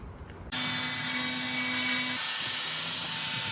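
A power saw bites into the edges of a truck flatbed, starting abruptly and running loud and steady with a sustained whining tone, its pitch shifting partway through the cut.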